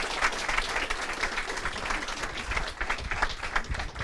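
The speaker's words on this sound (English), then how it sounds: "how about a big round of applause for our students?" At a preceptor training session, an audience gives students a round of applause, with a continuous wash of many hands clapping at a moderate distance and little else heard.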